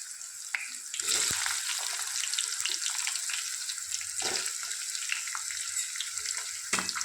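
Onions fry in a pan with green chillies, a soft, steady hiss and crackle with a few sharp clinks and pops, and no voices.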